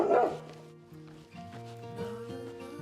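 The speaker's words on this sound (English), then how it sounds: "Seems like nearly everyone has a guard dog here, or two." Guard dogs in Greece let out a bark, then whining yips and whimpers, heard at moderate distance outdoors.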